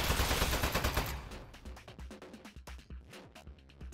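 A turret in the Portal game Aperture Desk Job fires a dense burst of gunfire, loud and continuous at first, then breaking into separate sharp shots that thin out.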